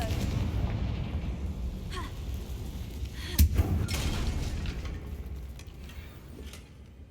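Confringo blasting spell explosion in Hogwarts Legacy, a sharp burst near the middle of a rumbling game soundscape, followed by a brief second pop.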